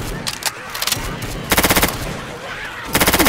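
Rapid automatic gunfire in the video game Left 4 Dead 2, two loud close bursts of evenly spaced shots, with scattered quieter shots and game noise in between.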